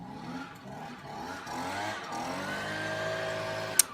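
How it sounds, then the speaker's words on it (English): A leaf blower blowing grass in a yard outside, a steady droning engine whine that swells slightly and holds, heard from some distance with a brief sharp click near the end. "There he goes with a blower to blow all the grass back into the yard."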